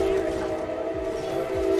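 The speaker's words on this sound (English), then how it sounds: "I'm gonna ride the train again." Train in the video game Paladins rumbling along steadily with a sustained whistle-like tonal hum over clattering rolling noise, loud and continuous throughout, a faint voice briefly underneath.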